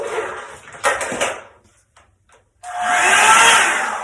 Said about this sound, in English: And I'm blow drying on high heat.